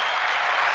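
Applause effect of a crowd clapping, a dense steady wash of many hands filling the whole short burst at an even, fairly loud level with no voices over it.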